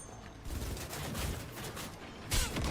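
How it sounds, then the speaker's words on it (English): A massive explosion in the Cyberpunk 2077 video game rumbles as dense, sustained noise with crackling bursts and a louder hit near the end. "massive explosion"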